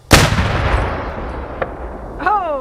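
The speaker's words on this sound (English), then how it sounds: "This is the Whitworth cannon." A single loud blast from a Civil War Whitworth cannon, sharp onset, followed by a long rumbling decay and echo that trails off over a couple of seconds.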